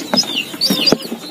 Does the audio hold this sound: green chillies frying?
no